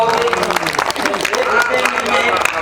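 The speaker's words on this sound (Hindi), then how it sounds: "तो आप जोरदार तालियां बजाओगे" An audience at a Hindi comic poetry stage show claps steadily, a dense continuous wash of applause mixed with crowd noise. A performer's voice carries over the clapping throughout.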